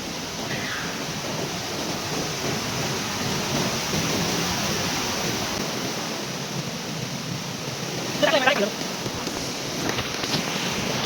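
Subhedar waterfall in the Sahyadri hills pours with a steady, loud, broadband roar of rushing water that fills the whole stretch, with a brief louder surge partway through and no voices.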